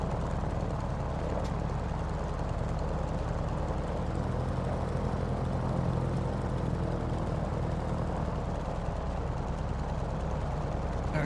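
A Grumman propeller aircraft taxies at Tampa in a flight simulator game, a steady droning engine and propeller hum holding at constant loudness throughout with no speech.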